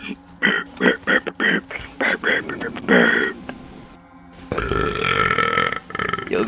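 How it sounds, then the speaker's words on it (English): A person lets out a long series of loud burps in quick succession, close to the microphone, followed by a stretch of speech over game noise. "No, that's me burping."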